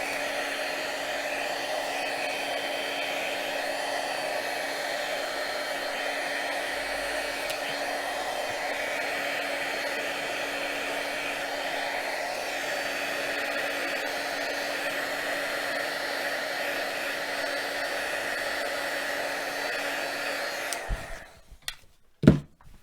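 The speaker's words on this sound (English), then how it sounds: "I'm going to dry that with my heat tool." A craft heat tool whirs steadily and loudly for about twenty seconds as it dries paint on a slider card. It then clicks off, leaving brief handling noises.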